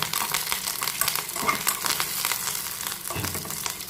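Onions fry in hot oil in a pan, giving a dense, close, continuous sizzle, with a couple of stirring scrapes and no talk.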